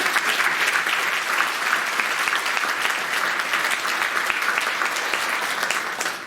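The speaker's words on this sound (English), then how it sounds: "Please clap for each other." Sustained audience applause at a 50th anniversary celebration show for an emergency shelter's volunteers, an even, dense wash of clapping from a large crowd that carries on steadily for over six seconds.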